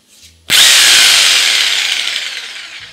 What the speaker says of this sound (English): So yeah, the Bosch Jigsaw, again, as is customary.